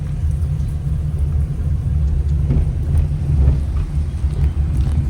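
A car picks up speed during a driving lesson, heard from inside the cabin as a steady, loud low rumble and drone of engine and road noise, with no clear voices.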